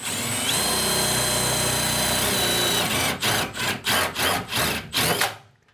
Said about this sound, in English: So now with our self tapper, I'm just gonna get this drilled in.